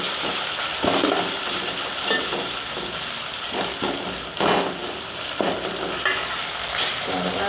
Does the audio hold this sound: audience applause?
no